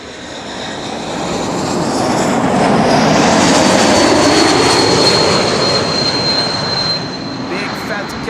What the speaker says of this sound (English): This is an E2 Embraer KLM flight